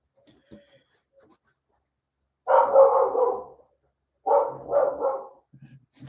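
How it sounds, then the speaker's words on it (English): Dogs barking in two loud, nearby bursts of rapid overlapping barks separated by a quiet pause, with a few softer yips trailing off at the end. "dang dogs"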